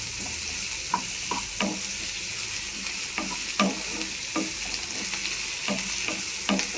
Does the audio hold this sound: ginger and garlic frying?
yes